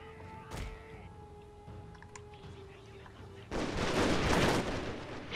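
Gunfire in the samurai-era strategy game Total War Shogun 2, a sharp shot early on followed by a dense, loud burst of massed musket-style fire in the final seconds over a low battlefield din.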